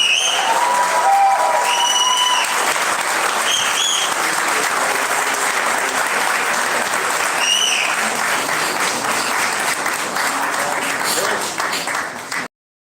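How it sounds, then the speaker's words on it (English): An audience applauds at a property launch event, a dense, sustained wash of clapping from a large crowd that carries on evenly before cutting off abruptly near the end, with a few scattered voices mixed in. "give them a round of applause, please"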